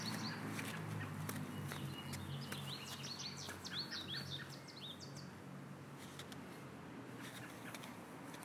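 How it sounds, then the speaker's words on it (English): Small birds chirp outdoors in scattered, faint tweets over a steady open-air background, with soft footstep-like rustles underneath. "a lot of birds out today"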